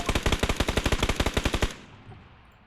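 Rapid automatic gunfire in the battle royale video game PUBG, a loud steady burst of about twenty evenly spaced shots lasting under two seconds, then a quiet tail with no voices.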